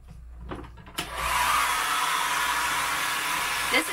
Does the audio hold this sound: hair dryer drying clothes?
yes